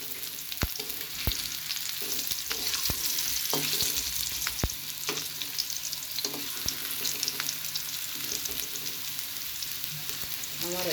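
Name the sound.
potato french fries frying in oil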